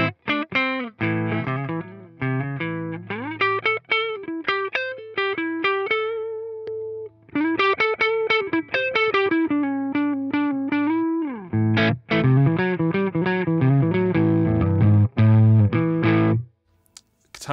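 An electric guitar played straight into a Boss Katana amp with no pedal gives a fuzzy overdriven tone. It plays loud, close riffs and held notes with short pauses, and no voice is heard.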